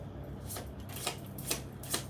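Tarot cards being shuffled by hand in several quick riffling bursts, each a soft papery flutter, close and fairly clear over a low background hum.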